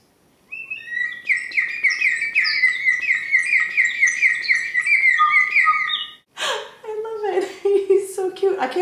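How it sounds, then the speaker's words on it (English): A clay water whistle gives a long warbling, bubbling birdlike trill, loud and close, then stops; a short burst of laughter-like voice follows. "you blow in here, and you're supposed to hear the bird call"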